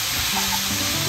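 Minced meat frying in a pan makes a continuous close sizzle, with a soft stirring scrape, over a brief moment.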